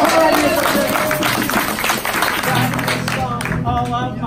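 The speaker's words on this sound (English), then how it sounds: "let's applaud." An audience applauds at a recovery-themed music event. Broad clapping mixes with crowd noise and voices, loud and dense, then thins as speech takes over near the end.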